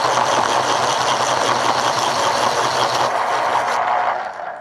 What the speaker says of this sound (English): Here's the motor sound on this one.